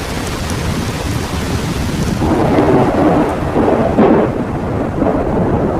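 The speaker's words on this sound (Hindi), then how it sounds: "7 महीने बाद यहाँ फिर से बारिश होने लगी।" Heavy rain hisses steadily while low thunder rolls and swells in the background, rumbling loudest midway before easing.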